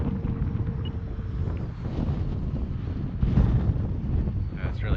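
Gusty wind buffets the microphone at an RC airfield, a steady low rumble with stronger surges, especially toward the end, and no clear talk over it.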